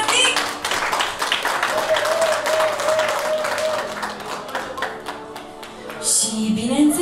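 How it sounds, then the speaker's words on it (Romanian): Audience applause at a family celebration honoring the father, a crowd clapping steadily for several seconds with a voice speaking over it, fading near the end. "Aplauze și pentru tătic!"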